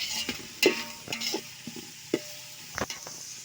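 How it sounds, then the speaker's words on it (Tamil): Onions frying with mint and green chilli in oil, a light sizzle broken by separate spoon knocks and scrapes against the pan at an uneven pace, fairly quiet and close, with no talk. "இப்போ வந்து ஆனியன் ஆனியன் சேர்த்து நல்லா வந்து பொன்னிறமாக வந்து வறுத்துக்கலாம்"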